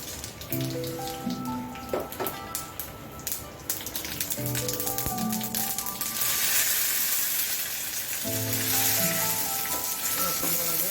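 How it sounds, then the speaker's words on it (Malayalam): Mustard seeds splutter and crackle in hot coconut oil for a Kerala puliyinji tempering, a dense, steady sizzle with sharp pops close by, overlaid with music and no speech. "എണ്ണ ചൂടായിട്ടുണ്ട് കടുക്"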